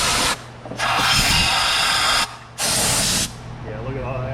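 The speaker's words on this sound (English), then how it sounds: "I'm gonna blow these holes out with some compressed air" Two loud bursts of compressed air hissing as a Jeep engine's spark plug holes are blown out, each about a second and a half, separated by a brief pause and followed by a fainter rushing tail.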